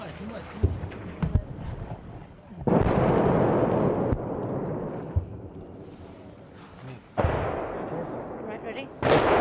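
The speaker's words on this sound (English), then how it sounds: "There's been some incoming fire, not clear where exactly it's landed." Shelling in a war zone near the bridge into Irpin, Ukraine: sharp booming blasts and cracks break out over a constant rumble, with heavy bursts around three and seven seconds and voices in the background.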